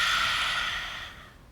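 A single long, deep breath out during a yoga breathing exercise, close and breathy, fading steadily over about a second and a half, with no speech.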